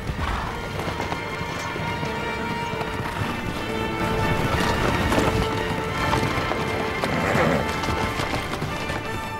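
Horses gallop in a rapid, dense run of hoofbeats that stays loud and close throughout, with occasional neighing and clattering mixed in, set on the steppe.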